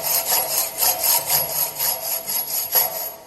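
Die cutting an external thread on galvanized iron pipe, a steady rasping, scraping cut repeating in a rhythmic back-and-forth pattern roughly every half second, close and fairly loud with no talking.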